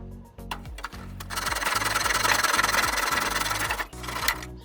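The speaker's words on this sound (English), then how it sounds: "Back to the flush cut saw." A flush cut saw rasps through wood in quick, rhythmic back-and-forth strokes, close and steady, ending with a few slower pulls.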